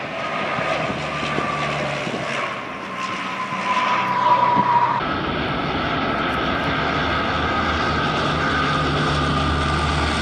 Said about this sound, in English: NASA has their own version of the plane called the Super Guppy